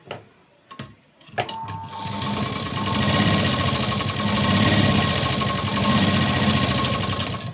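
A sewing machine stitches fabric lining, starting after a few clicks and short bursts, then running in a fast, continuous loud rattling hum close by for several seconds.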